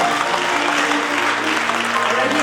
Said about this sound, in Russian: Аплодисменты нашим поэтам!